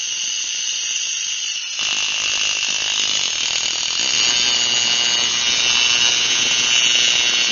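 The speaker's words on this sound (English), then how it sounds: "You'll end up hearing the compressor go on." Air compressor on a setup with a 5 hp Briggs and Stratton engine switching on, a sharp hissing mechanical whir that swells and keeps running steadily, close and loud.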